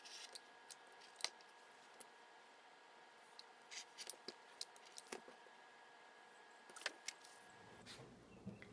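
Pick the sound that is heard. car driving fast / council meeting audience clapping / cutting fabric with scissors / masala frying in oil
cutting fabric with scissors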